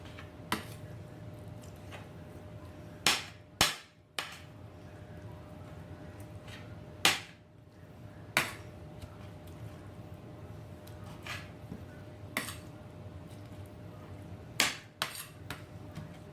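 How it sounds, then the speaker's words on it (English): A knife chopping artichokes finely on a board in a home kitchen, sparse sharp knocks landing irregularly, some in quick pairs, over a quiet background with no talking. "If you like the flavor of artichokes, but you don't really like biting into them, then cut it up nice and fine."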